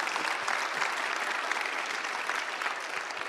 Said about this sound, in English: give me a hand clap of praise